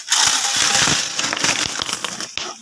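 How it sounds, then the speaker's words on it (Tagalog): Coins saved from trips pour out of an opened coin bank in a dense, continuous metallic jingle and clatter, loud and close, with no talking. "bubuksan ko na to kasi dito ko nilalagay ang barya tuwing biyahe ko"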